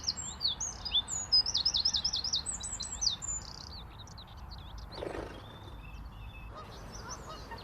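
Birds sing near a chiffchaff nest in the countryside. A quick run of high, bright chirps comes first, then scattered fainter calls and a brief low rustle over quiet background.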